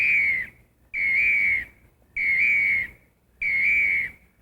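A person whistles four loud, evenly spaced sustained notes imitating the fulvous tree duck's loud whistling call, each about half a second long with short silent gaps.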